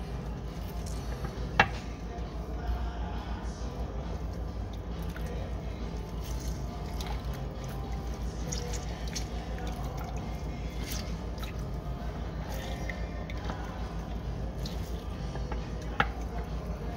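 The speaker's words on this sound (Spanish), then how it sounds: "vamos a echarle el jugo de naranja" Orange juice poured into a pot of Jalisco-style birria, a soft liquid splashing and dripping sound with a couple of sharp clinks, steady and close under a busy kitchen backdrop.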